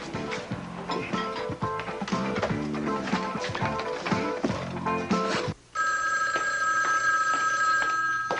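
A telephone rings with a steady repeating bell tone, loud and close, right after music cuts off.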